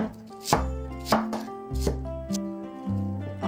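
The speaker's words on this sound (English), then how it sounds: "Dicing 5 slices of bacon. 2 onions." A knife dices onions on a cutting board for clam chowder, giving several crisp chops at uneven intervals over a steady melodic background.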